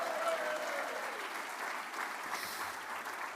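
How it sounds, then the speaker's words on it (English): Faint, steady audience applause at a Constitution Day evening event, an even wash of clapping heard from a distance that holds for the full few seconds. "Round of applause for Larry Arn."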